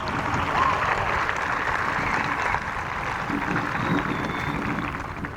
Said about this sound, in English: Let's give a round of applause to our band under the direction of Miss Katie Jewell and Mr. Aaron Wood.